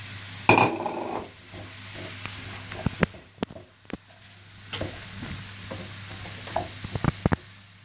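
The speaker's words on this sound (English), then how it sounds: "We're going to let this fry for about 8 to 10 minutes. So just make sure you keep stirring it so it doesn't burn in the bottom." Bolognese mince frying in a pan, with a steady sizzle under repeated knocks and scrapes of a spoon stirring against the pan. The sounds are close and loud, and no one speaks.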